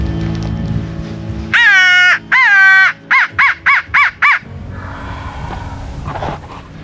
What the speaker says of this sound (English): Crow called, heard him gobble.